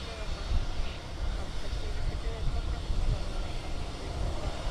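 Ryanair Boeing 737-800 taking off at Birmingham Airport, a broad, steady engine roar with heavy low rumble heard from a distance, with faint talking mixed in.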